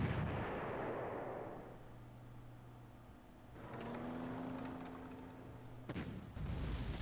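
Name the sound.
artillery fire in video game Panzer Corps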